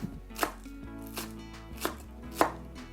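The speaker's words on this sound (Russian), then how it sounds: "Зеленый лучок тоже порежем." Green onions are chopped on a cutting board with a knife in four crisp, separate thuds spaced about half a second apart, close and quiet with no talking.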